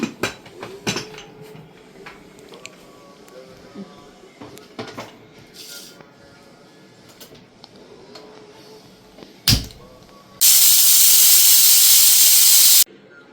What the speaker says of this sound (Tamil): மூடி போட்டு ஒரு ரெண்டு விசில் வரப்போ